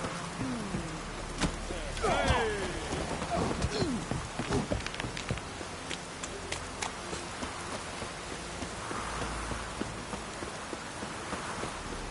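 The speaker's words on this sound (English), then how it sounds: "Looks like rain." Rain in The Witcher 3 video game, a soft steady patter with scattered drips, joined by faint hoofbeats, rustling and brief sliding effects at moderate distance.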